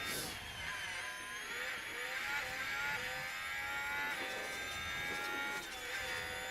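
A loud, steady high-pitched engine whine with sustained harmonic tones, like a racing car holding high revs, continuous throughout with no talking, from a Formula 1 car in the video game F1 23 Manager at Imola.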